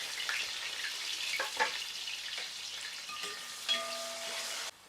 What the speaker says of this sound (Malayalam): ഇഞ്ചി വെളുത്തുള്ളി ചെറിയ ഉള്ളി എടുത്ത് വെച്ചിട്ടുണ്ടേ അപ്പം നമുക്ക് അങ്ങോട്ട് ഇട്ട് കൊടുക്കാം എല്ലാം കൂടെ ഒന്നിച്ചങ്ങിടുവാണേ